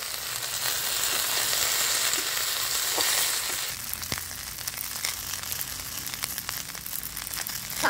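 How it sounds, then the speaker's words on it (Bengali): Fried vegetables for a Bengali shukto are tipped into ground spice paste in a hot pan and set off a loud, dense sizzle. It eases slightly partway through and keeps crackling, with scrapes and stirring. "বেটে রাখা মশলাটা দিয়ে দিচ্ছি, ভেজে রাখা সব সবজিগুলো ওর মধ্যে ঢেলে দিচ্ছি।"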